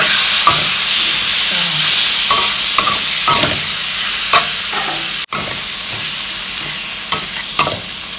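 Homemade carrot noodles stir-fried in an oiled pan, a constant loud sizzle broken by repeated close spatula scrapes and taps, with one brief dropout partway through.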